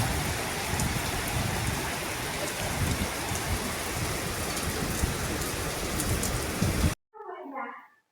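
Heavy rain pours steadily outside near paddy fields, a dense continuous hiss with spattering drops for about seven seconds before cutting off abruptly.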